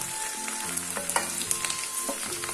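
Cabbage sizzles and fries in a hot pan while a spoon stirs it, with crackling and soft scraping taps over a steady hiss, close and alone.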